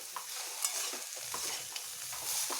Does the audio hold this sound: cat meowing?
no